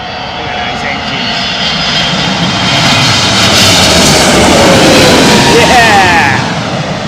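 A Boeing 777 airliner roars low overhead on its landing approach, a loud, broad jet engine rumble that swells to a peak mid-pass before easing slightly, close and dominant throughout.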